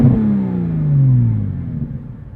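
A modified 2003 Porsche Boxster S engine revs loudly and close, its pitch sliding steadily downward as it winds off over a couple of seconds, with no voices.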